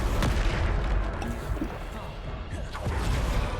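Bombarda blasting spells in Hogwarts Legacy, a dense stretch of loud, booming blasts and crashing impacts layered with game effects, continuous and heavy throughout with a few sharper hits.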